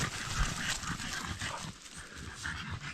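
Dogs whimper and whine softly in a spring forest during a mushroom-hunting walk, faint and close against a steady rustling outdoor background.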